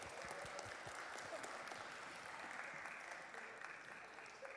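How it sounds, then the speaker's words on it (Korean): A church congregation claps together in a faint, steady burst of applause that carries evenly throughout and eases off slightly toward the end. "박수 한번 부탁드립니다."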